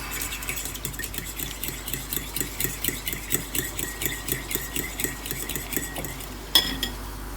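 A utensil stirs potatoes in a pan for breakfast burritos, giving a steady run of close scraping and clinking strokes in a regular rhythm, with one sharper clink near the end.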